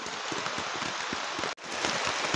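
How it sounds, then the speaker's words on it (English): Rain patters steadily on a tent in the Belize jungle, a dense close hiss of drops with irregular louder taps throughout, heard alone without voices. "You can hear the rain."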